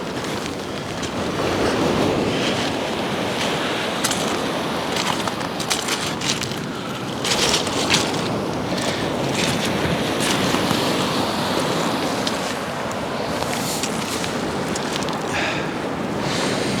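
Sea waves washing onto a rocky coast at night, a continuous broad roar of surf with rushing swells and wind, fairly loud and close, with no voices.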